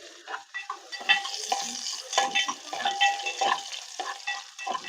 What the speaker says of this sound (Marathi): तेल तापलेलं आहे, आता त्याच्यामध्ये कांदा घालून घेतो. कांदा चांगला तेलात परतून घ्यायचा.